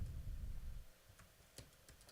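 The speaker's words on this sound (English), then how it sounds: "you can just click in the empty field and start typing" Keystrokes on a computer keyboard while filling in an empty form field, a few sparse, fairly close clicks spread over a couple of seconds in a quiet room.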